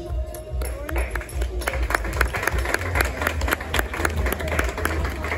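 Audience applause rings out for riders leaving the arena at the French Dressage Championships, dense steady clapping with scattered cheers and crowd noise throughout.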